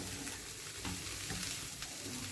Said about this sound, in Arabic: انا طبعا غاسله البسله، بحب انشفها كده مع البصله